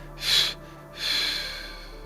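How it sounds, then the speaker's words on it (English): Two forceful breath exhales through the nose, close and breathy, each a short rushing burst with a brief pause between, during a guided breathing session, with no talking. "Let's do 3 quick exhales."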